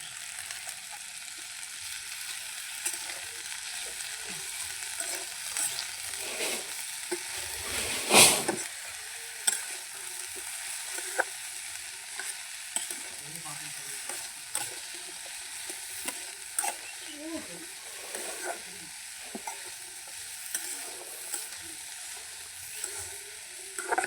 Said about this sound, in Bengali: আর শাক আর পেঁয়াজ কুচি, ডিমের শাক আর পেঁয়াজ কুচি একসঙ্গে দিয়ে দেবো। এরপরে নাড়তে থাকবো।